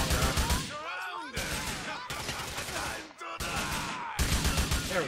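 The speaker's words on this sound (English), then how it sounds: "I'm getting shot at here" Rapid bursts of gunfire in the video game Grand Theft Auto IV, several loud sharp volleys separated by brief gaps, close and punchy with ringing tails.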